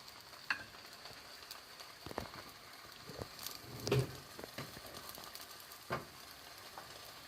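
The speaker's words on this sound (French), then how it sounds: "On la laisse cuire à feu moyen." A msemen flatbread cooks in a pan over medium heat with a low, steady sizzle, occasional soft taps and scrapes over it, quiet and close, with no talking.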